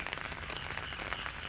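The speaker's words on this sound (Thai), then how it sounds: "ว่าชมบรรยากาศฝนตกไปพร้อมๆกันครับ" Steady rain falls outdoors by a farm canal after a night of heavy rain, making a dense, even patter with scattered drops, moderately quiet and unbroken, with no voices.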